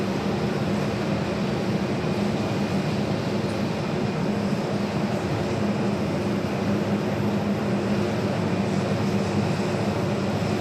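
Airliner at Phoenix Sky Harbor airport rumbling steadily on the runway, a broad continuous roar of engine and rolling noise holding at even loudness throughout with no voices.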